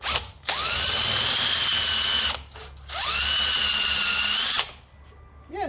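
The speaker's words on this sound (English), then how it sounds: "I drilled a little more and it broke through the bolt" A power drill bores into a bolt during fuel injector work on a 1987 Toyota 4Runner with a 22RE engine, two sustained high whining runs with a short pause between them, close and loud.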